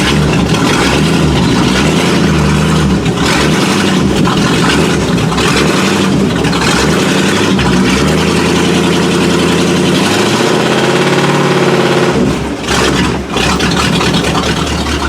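A 1979 Chevy K20 truck with a 203 transfer case runs in gear with a loud, steady, close engine drone that briefly dips and wavers near the end.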